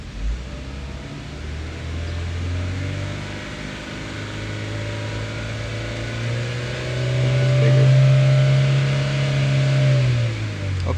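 A Chevy Malibu engine idles with a steady low hum, then revs up as the accelerator pedal is pressed. The pitch climbs and holds louder for a few seconds before easing back, heard close and with no talking.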